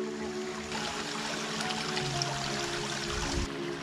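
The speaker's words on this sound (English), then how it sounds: "This is our campsite. We have our own creek." A creek running past a campsite at Unicoi State Park, a steady close rush and trickle of water with a low rumble beneath, no voices.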